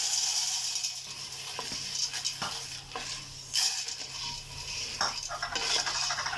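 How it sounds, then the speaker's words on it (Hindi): Popcorn goes into melted butter in a pan, setting off a steady sizzle and frying hiss with scattered scraping and stirring clatters against the pan. "इसमें हम डाल देंगे पॉपकॉर्न"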